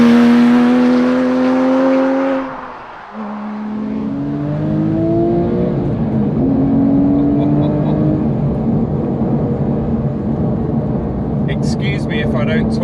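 Porsche 911 GT3 997.2 engine revs hard then climbs through the gears while driving, loud rising engine tones sweeping up and dropping between shifts, close and sustained with a brief dip near three seconds.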